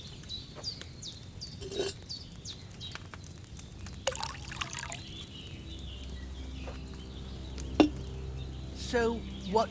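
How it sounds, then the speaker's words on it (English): Water pours into a cauldron in Kingdom Come: Deliverance II, a soft trickling under birdsong and a rooster's crow. Scattered clinks and a low steady hum sit underneath, with voices talking between sounds. "So, what did you pour in there? Water."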